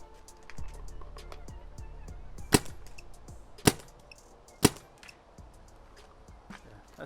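Planet Eclipse M170R paintball marker, stock, firing paintballs over a chronograph: three sharp, close pops spaced about a second apart against a quiet background.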